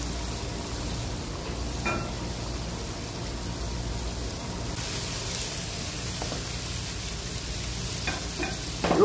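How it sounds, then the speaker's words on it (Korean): Battered chicken skin deep-fries in oil at 175 degrees, a steady dense crackling sizzle with heavy bubbling and occasional sharper pops, close and continuous without talk. "이렇게 튀김옷에 겉에 묻힌 이 닭껍질을 175도 온도에다가 하나씩 넣고 이제 튀길 겁니다."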